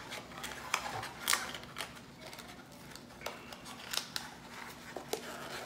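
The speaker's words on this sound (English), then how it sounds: "Now these flaps just fold in." Printed cardboard sample box, cut on a Graphtec cutter and printed on a Canon, having its flaps folded in along the seams: scattered crisp crackles and scrapes of card, close and fairly quiet, with no talk.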